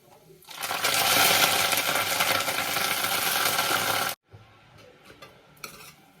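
Wild chandra vegetable tipped into fried masala in a pan gives a loud, dense sizzle and rattle for about four seconds, then cuts off, followed by quieter scraping and stirring clinks.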